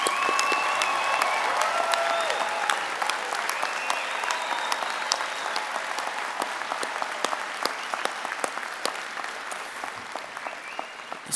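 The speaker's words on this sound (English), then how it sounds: "Let's give them another round of applause." Sustained, dense applause from a large audience at a University of Calgary convocation ceremony, steady and loud throughout with scattered sharper claps and a few faint voices.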